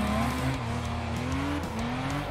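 Toyota Cresta JZX100 drifting on a circuit, its engine droning steadily near and loud with a rising and falling pitch while the tires hiss and squeal continuously underneath, no voices.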